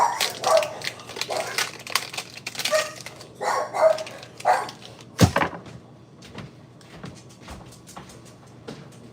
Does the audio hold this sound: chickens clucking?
no